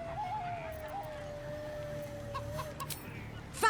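A chicken in the Baldur's Gate III video game clucks in short bursts, with a faint steady tone and music under it, and a brighter sharp flurry at the very end.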